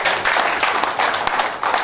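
Brief burst of audience applause at an indoor product-training session, dense and fairly loud clapping that continues steadily for the short stretch without talk.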